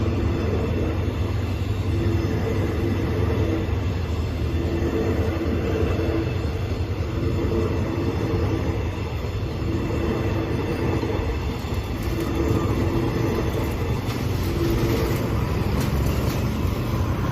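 Hitachi 4511 diesel locomotive hauling special express train 31 through a level crossing south of Ratchaburi, a loud continuous rumble of engine and rolling wagons close by throughout, with wheel noise rising toward the end.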